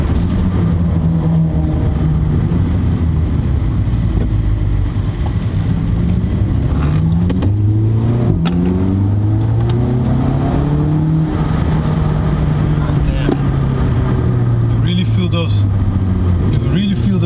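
A loud Stage 2 tuned Volkswagen Polo GTI 6C engine, 280 horsepower, revs up and down through rising and falling pitches in sport mode, accelerating hard and close, with a voice speaking over it.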